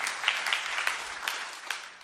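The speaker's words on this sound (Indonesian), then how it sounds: "Yang percaya tepuk tangan yang meriah bagi Tuhan Yesus" Applause rises from a church congregation, a soft and steady wash of many hands clapping at moderate distance, with a few sharper claps showing through.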